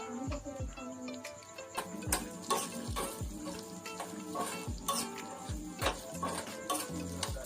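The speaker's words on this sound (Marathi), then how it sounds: "तर काय आता शेंगदाणे भाजतो आणि खातो." Peanuts with salt being roasted in a pan, with a steady sizzle-like rustle and repeated scraping stirs and clinks in a regular rhythm, close and moderately quiet.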